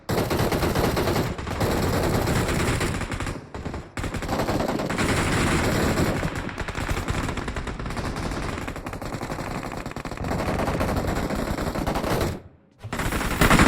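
Automatic gunfire in the mobile battle royale PUBG Mobile rattles in long, loud, close bursts almost without pause, broken by a few short gaps, with a sudden dropout near the end before firing resumes.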